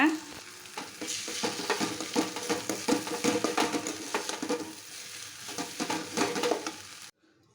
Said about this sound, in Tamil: அந்த ஒரு முட்டையும் இந்த வெண்டைக்காயோடையே சேர்த்துக்கலாம். சேர்த்துட்டு நல்லா கிளறி விடுங்க